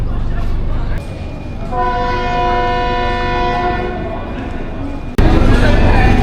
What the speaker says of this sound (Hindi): इंजन ने हॉर्न दे दिया और गार्ड साहब ने पीछे से विसल दे दी।